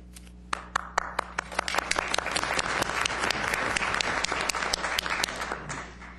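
Audience at a city council meeting applauding two newly inaugurated councillors, a moderate round of clapping that builds from a few sharp claps into steady applause and then tapers off.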